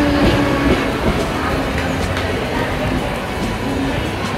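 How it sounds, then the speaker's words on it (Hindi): A Mumbai local train, two of them pulling in together at a busy station, rumbles with a steady loud rail roar and faint clattering throughout, with crowd noise and voices mixed in. "देखो हमारी लोकल तो आई नहीं थी, पर उसकी जगह एक साथ दो दो लोकल आ गई।"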